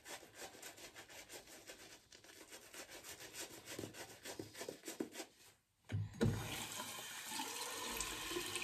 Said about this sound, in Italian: Un po' d'acqua.